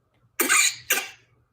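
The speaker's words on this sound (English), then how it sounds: "Did he vomit something or just cough it out or what happened?" A pet prairie dog named Poppy gives two sharp, close coughs in quick succession, the first longer and rougher, the second shorter, with near silence around them.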